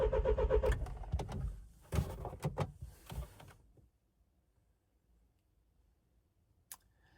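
A Mini car's starter cranks in a short burst of rapid clattering turns but the engine never catches, then falls to near silence broken by a single faint click.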